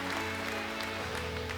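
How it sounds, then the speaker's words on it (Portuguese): Congregation applauding during a church service, a short, fairly faint wash of clapping heard over a sustained musical drone. "Aplauda Jesus"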